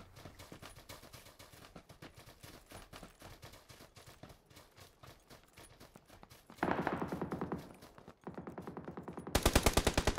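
Rapid automatic gunfire rattles in PUBG, a fast stream of sharp shots that runs throughout, grows louder in a couple of closer bursts, and ends in an intense, near volley.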